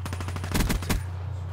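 Rapid automatic fire from an M8 rifle in an online shooter game: a quick burst of close, sharp shots, then a short pause and a few heavier, louder rounds, all over a steady low game hum.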